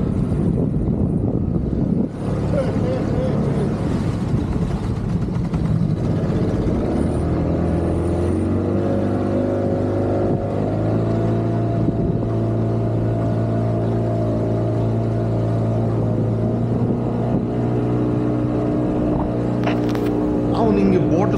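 A motorboat runs on the river at Gandikota, its engine holding a loud, steady droning hum close by for most of the ride, with voices talking over it.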